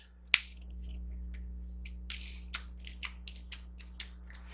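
Playing cards handled and shuffled at a tabletop game, a sharp snap followed by a run of crisp, evenly spaced flicks and riffles, close and clear against a low steady hum.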